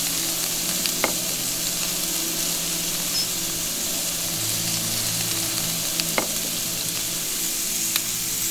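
Steady sizzling of meat frying in a hot pan, a continuous crackling hiss with a few sharper pops, close and fairly loud, no voices.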